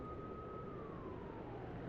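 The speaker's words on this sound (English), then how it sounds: "Cres stands alert as she watches the police cars disappear around the corner." Police car sirens wail faintly in the distance as the vehicles drive away, a thin, gliding tone that slowly falls in pitch over a steady background rumble.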